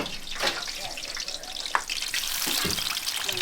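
Onions and garlic frying in seasoned oil with hot Scotch bonnet pepper at a Jamaican street food stall, a steady crackling sizzle with occasional stirring clatter and background voices.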